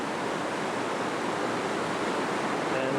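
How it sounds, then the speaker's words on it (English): Fast-rushing Rhone River carrying glacier meltwater down from the Alps, a steady broadband roar of churning water filling the whole clip at constant loudness, close by and with no voices. "And again the river, really fast rushing. Coming down from the Alps, from the glaciers."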